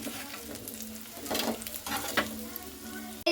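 Puffed rice pakoras fry in hot oil with a steady, close sizzle, broken by a few louder bursts as the pieces are stirred.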